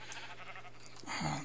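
A sheep bleats in Minecraft, a short nasal cry rising near the end over a steady background hum, fairly faint and alone without talk.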